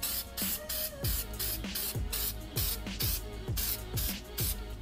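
Spray adhesive is applied to an engine gasket surface during an Infiniti G35 engine block assembly, in short hissing bursts that repeat in a quick, steady rhythm.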